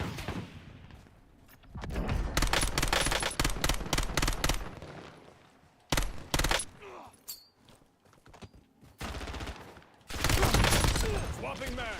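Rapid automatic gunfire in a shooter video game comes in several loud bursts, with pauses and quieter stretches between them and a voice talking over parts of the action.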